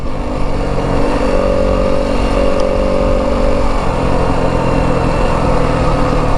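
A 2025 Yamaha WR 250F dirt bike engine pulls steadily in fourth gear with no downshift, a loud, continuous drone that rises gradually as the bike accelerates.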